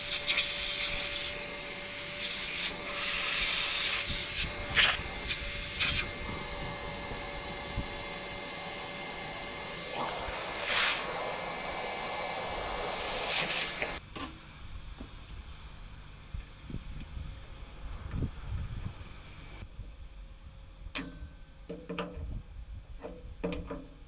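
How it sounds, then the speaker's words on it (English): A shop vacuum roars steadily with scraping, rattling metal swarf being sucked up, then cuts to quieter intermittent clatter and hiss. "then vacuum all of the swarf out of there"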